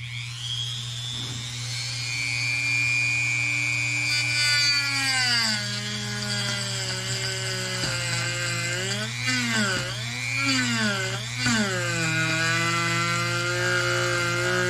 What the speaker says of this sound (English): Yeah, the little Dremel's nice